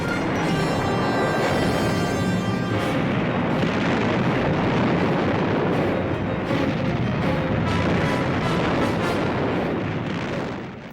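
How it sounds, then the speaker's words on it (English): Naval gunfire from a German raider and a British cruiser trading salvos in a sea battle, a dense, continuous roar of explosions and booms that stays loud and sustained throughout. "Penguin's guns opened up. The British cruiser returned fire."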